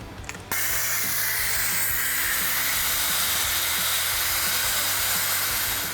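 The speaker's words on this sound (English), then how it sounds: "we're gonna go ahead and get the pneumatic bleeder there, and we're gonna go ahead and suck the fluid out of the reservoir as much as we can" After a brief click, a pneumatic bleeder sucks hydraulic clutch fluid from the reservoir with a loud, steady, continuous air hiss.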